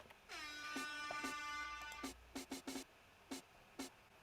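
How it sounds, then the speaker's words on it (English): A blaring air horn blast sweeps up and holds, followed by a run of punchy drum hits in an electronic beat. "And the air horn, of course."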